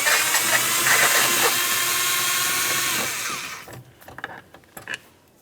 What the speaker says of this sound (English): Use a T27 Torx bit to remove it.